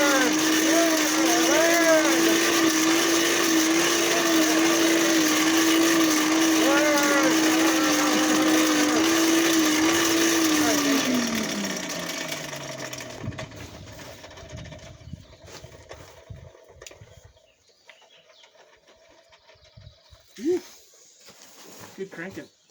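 A hand-cranked blacksmith forge blower at a mining-camp smithy whirs loudly and steadily with a rising and falling tone, then spins down and fades away around eleven seconds, leaving faint clanks and background sounds.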